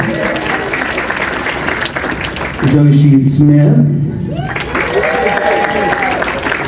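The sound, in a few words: audience clapping for named people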